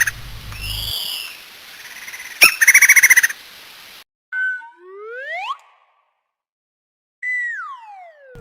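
Stylized bat squeaks sound as a series of sharp, high, sweeping chirps, some rising and some falling, in short bursts separated by a stretch of silence, clear and fairly loud.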